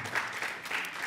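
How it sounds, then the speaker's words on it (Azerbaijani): A short burst of audience applause: a dense patter of many hands clapping together at moderate distance. "Alqışlayaq."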